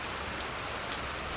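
Rain falls steadily outside, a dense, even hiss of drops on surfaces that stays unchanged from start to finish.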